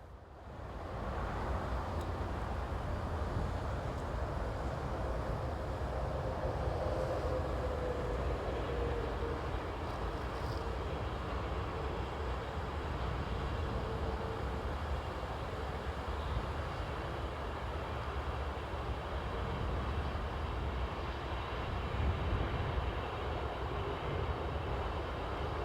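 Dutch railways class 2813 electric locomotive, number 186205, hauls a northbound passenger train from Eindhoven to Amsterdam, a steady broad rumble that holds at an even level for the whole stretch with no voices.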